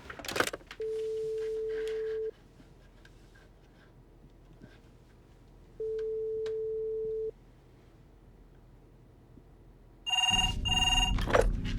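A telephone rings twice in long steady electronic tones separated by a pause of quiet room noise, followed by a louder burst of warbling tones and a clatter as the call is picked up.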